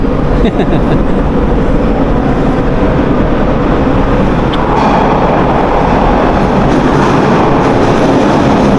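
A subway train runs along the rails near Pape station: a loud, steady, close rumble of wheels and carriages, with a faint clatter on top, filling the whole stretch without a break.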